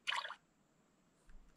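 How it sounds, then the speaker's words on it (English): A LEGO Mario toy plays a brief electronic water sound effect, a short bright splashy burst at the start followed by quiet and a faint later blip. "I got the water sound effect too, that wasn't supposed to happen"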